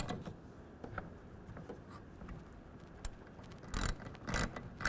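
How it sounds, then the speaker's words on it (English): A 9/16 ratchet and socket tightens a tonneau cover rail on a 2023 Ford F-250 HD, with quick close clicking of the pawl and a few louder clunks near the end. "I'm going to take a 9/16 ratchet and socket, squeeze down on it"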